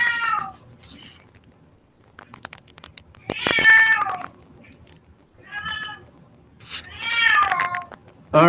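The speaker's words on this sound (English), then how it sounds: "That cat wants breakfast." A cat meows repeatedly in a quiet indoor room, with four or five drawn-out, rising and falling calls spaced by short pauses and faint background noise in between.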